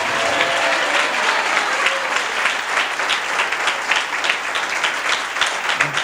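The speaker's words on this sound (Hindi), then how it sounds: "अगर कोई विश्वास करता है तो वे प्रभु को ताली।" Sustained applause from a church congregation at a sermon, steady and dense for the full stretch, with no speech over it.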